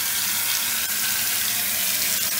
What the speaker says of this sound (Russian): Сейчас я поворачиваю кран, повернул более поплотно, в среднюю поставил по температуре воду